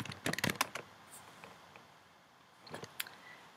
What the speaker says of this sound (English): type in my Apple ID. And type in my password.